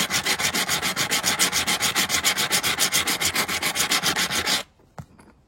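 Wood is sanded with 120 grit sandpaper in fast, regular back-and-forth strokes, loud and close, about eight rasps per second, stopping abruptly near the end and followed by a couple of faint knocks.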